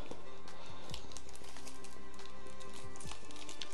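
A white plastic shipping bag around an Asus ROG Strix Arion SSD enclosure crinkles and rustles as it is handled and opened, giving close, irregular tapping and crackling noises over a steady background hum.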